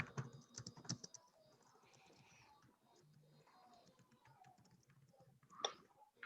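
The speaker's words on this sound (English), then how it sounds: "I'm going to type the instructions here." Typing on a computer keyboard during an online class meeting, soft quiet key clicks in short clusters, faint and close, with a few louder taps near the start and end.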